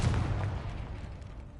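A Confringo blasting curse goes off in Hogwarts Legacy with a heavy, booming explosion that starts loud and rumbles away over a second or so.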